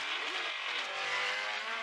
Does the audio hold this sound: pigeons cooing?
no